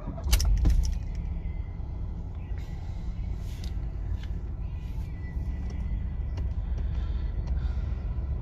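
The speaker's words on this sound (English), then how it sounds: "And we'll start the car up." A jangle of keys followed by a 2013 Ford Fiesta 1.0 petrol engine with manual gearbox turning over and settling into a steady idle, close by.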